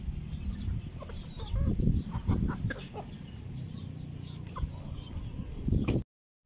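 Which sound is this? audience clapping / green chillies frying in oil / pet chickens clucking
pet chickens clucking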